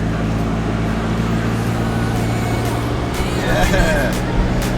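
A 4x4 driving on the sand at Seven Mile Beach, Lennox Head, its engine and cabin rumble loud and constant throughout, with a brief spoken word from a person inside.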